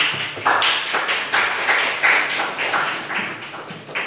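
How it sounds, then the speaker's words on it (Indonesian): A classroom gives applause for a student from Sragen, a run of distinct close claps with a hollow, tapping quality, evenly spaced and sparse rather than a full crowd ovation. "aplaus buat Sragen"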